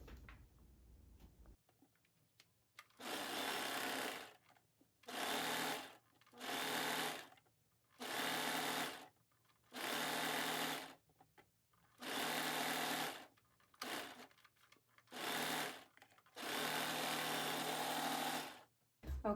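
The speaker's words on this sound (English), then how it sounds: "Now I'm going to serge this off so it'll look better, just like I serged the side seams." A serger overlock machine finishes the seam of a sweatsuit in repeated loud running bursts separated by brief silences, close by with no talking.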